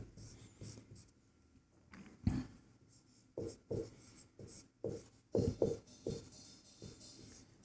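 Pen scratching out a maths solution for a Class 10 probability exercise, with short bursts of writing strokes and pauses between them, close and fairly quiet.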